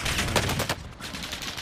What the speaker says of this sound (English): it's a freaking firework launcher